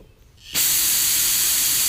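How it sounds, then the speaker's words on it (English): A can of brake parts cleaner sprays through a fuel injector inlet on an old, moldy Mercedes, starting suddenly as a loud, steady, close hiss that runs on without a break. "blow parts cleaner through it and clean it out"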